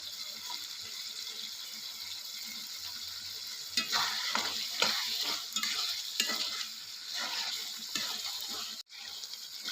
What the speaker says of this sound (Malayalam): കറിവേപ്പില ഇട്ടതിന് ശേഷം നന്നായിട്ട് ഇളക്കിയിട്ട് ഇങ്ങനെ യോജിപ്പിക്കുക.